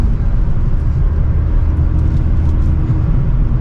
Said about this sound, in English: This one also has an aftermarket exhaust, so it's a little bit louder.